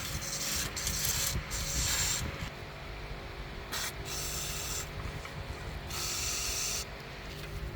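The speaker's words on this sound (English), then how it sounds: "let's go ahead and give everything a nice good coating of some PB Blaster." PB Blaster penetrating oil sprays in bursts over the suspension of a 1998 Volvo V70R XC, a close, loud hissing rush that cuts in and out several times with short pauses, alone without talk.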